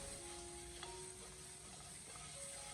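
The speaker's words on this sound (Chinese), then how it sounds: "最后再翻炒几下，把葱段翻炒至成熟，给它炒出锅气" Sea bass with ginger, scallions and soy sauce is stir-fried in a wok, giving a faint, steady sizzle with a soft stirring scrape near the middle and no talking.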